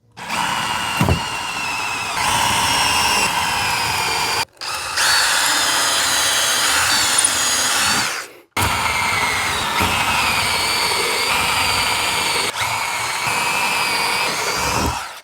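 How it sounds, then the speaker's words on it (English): A power drill bores pilot holes for mounting a garage ceiling storage rack, running in three loud, sustained whirring bursts separated by short pauses, with no talking. "So we'll just come in here and drill all of our holes."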